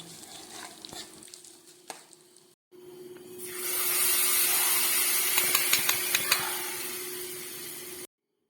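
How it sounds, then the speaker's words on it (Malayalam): Dried red chillies and curry leaves dropped into hot oil for a Kerala-style puli curry tempering, with quiet clatter followed by a loud, sustained frying sizzle and crackle, no talking. "ഉലുവ പൊട്ടിയ ശേഷം അതിലേക്ക് രണ്ട് വറ്റൽ മുളകും കറിവേപ്പിലയും കൂടി ചേർത്ത് കൊടുക്കാം"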